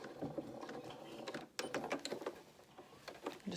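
A sewing machine runs a reinforcing row of stitches along dungaree straps: close mechanical whirring and rapid ticking, briefly pausing midway before resuming in uneven bursts.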